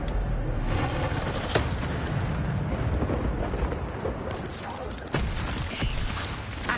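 Hogwarts Legacy combat with the Incendio fire spell gives a continuous rumbling blaze, broken by sharp impact cracks near one and a half and five seconds amid other battle noise.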